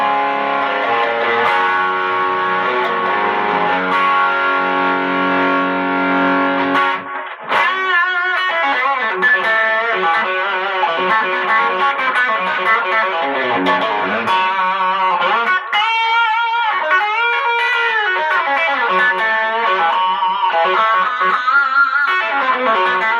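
Electric guitar through a heavy-gain, Tube Screamer-style overdrive pedal, loud and continuous, with held distorted chords giving way to quick lead runs and bends.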